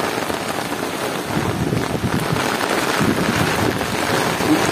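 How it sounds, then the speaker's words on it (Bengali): Heavy rain pours in a storm at Puri near the sea beach, a dense, steady roar of downpour with gusting wind, loud and continuous throughout. "উত্তাল বৃষ্টি, উত্তাল"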